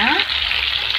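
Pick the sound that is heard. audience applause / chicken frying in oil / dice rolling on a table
chicken frying in oil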